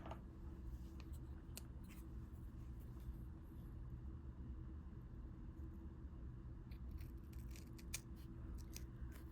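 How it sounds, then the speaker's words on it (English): Scissors trimming the edge of beading backing material for a moon pendant, giving a series of quick, crisp snips over a steady low rumbling background hum. "I am going to go ahead and trim this edge"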